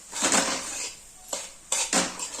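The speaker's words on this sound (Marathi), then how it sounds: "हा रवा आपण 2-3 मिनिट असंच भाजणार आहे आणि परत तूप घालून परत चांगला भाजून घेणार आहे" Semolina roasting in ghee in a pan for Diwali rava laddoos, heard as scraping and clinking from a spatula against the pan in several short bursts, close and fairly quiet, with no voices.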